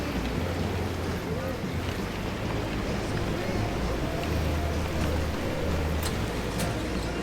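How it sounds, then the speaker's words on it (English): Steady rain and wind outside form a continuous broadband wash with low gusty rumble, unbroken for several seconds with no clear voices. "Fucking raining out."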